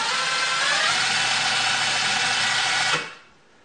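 A DeWalt brushless impact driver motor runs with a loud, steady whirring buzz for about three seconds, then cuts off and falls to near silence, with no talking.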